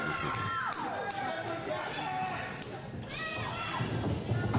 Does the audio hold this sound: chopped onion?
no